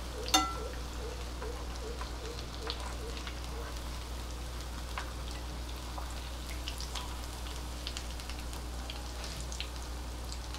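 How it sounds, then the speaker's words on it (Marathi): Veg cutlets shallow fry in a pan with a soft, steady sizzle and crackle. A sharp clink sounds near the start, and the frying continues quietly and evenly throughout. "छान दोन्ही बाजूनी आपल्याला ते लालसर होईपर्यंत शॅलो फ्राय करून घ्यायचं"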